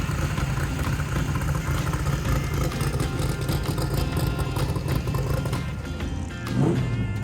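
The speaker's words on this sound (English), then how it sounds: "pull the truck out, warm it up, bring it up on boost" A drag racing truck engine idles and warms up, building boost with a loud, rough, continuous rumble and a rising whine toward the end, close up and with no talking.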